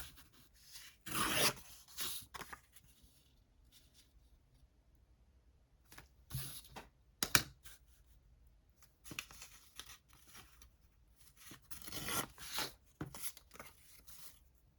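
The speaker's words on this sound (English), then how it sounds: "I'm gonna cut it off." Paper with a stamped image being cut off a larger sheet by hand, giving bursts of crisp snipping and rasping strokes separated by quiet pauses, close and moderately loud with no talking.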